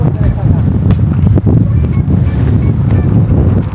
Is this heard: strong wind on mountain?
yes